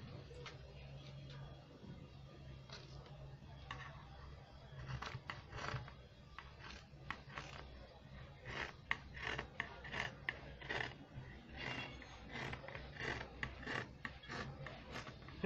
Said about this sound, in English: Draw a slight curve and cut out the piece.